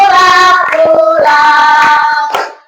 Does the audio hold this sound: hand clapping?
yes